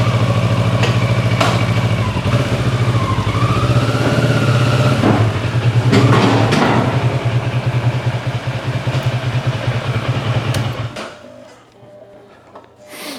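A 2023 Kawasaki Versys 650 LT motorcycle engine runs close and loud with a steady idle and a few blips of throttle, then cuts off near the end leaving near silence.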